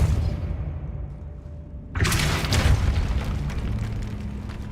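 A Depulso spell blast from Hogwarts Legacy on PS5 goes off as a single loud, booming burst. A broad whooshing rumble follows and fades slowly over a few seconds.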